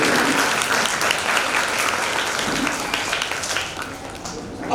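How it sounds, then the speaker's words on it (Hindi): Students at a coaching-class motivational talk clap for the story of an Olympic sprinter, producing full, sustained applause that holds strong before easing slightly and swelling again at the end. "तो वो लड़की के लिए तालियां देंगे हम"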